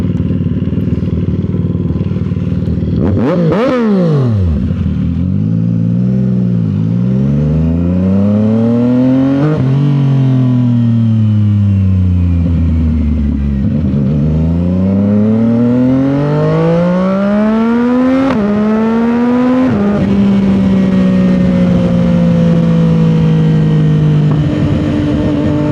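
A 2025 CFMOTO 675 SS motorcycle with a new full exhaust revs repeatedly, loud and close, the engine pitch climbing and falling through several throttle sweeps before settling into a steady high idle.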